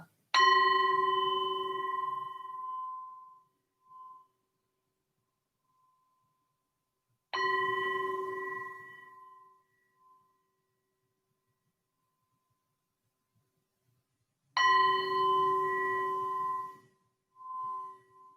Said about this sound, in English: I'm going to ring the bell to begin the practice.